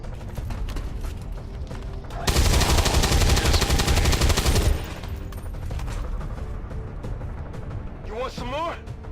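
Sustained automatic gunfire in the XCOM video game, a dense loud burst lasting a couple of seconds amid game sounds and music.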